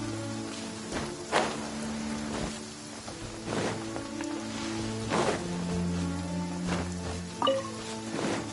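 Steady rain patter from a downpour in the video game Genshin Impact, with occasional louder hits, set against low sustained tones from game music, with no talking.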